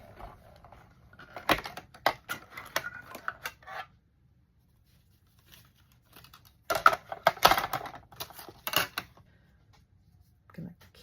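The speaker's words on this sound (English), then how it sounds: "We're going to run it through like that, so the cardstock is completely on the plate." A manual die-cutting machine cranks cardstock through its plates, giving rapid ratcheting clicks and rattles in two close-up bursts separated by a quiet pause.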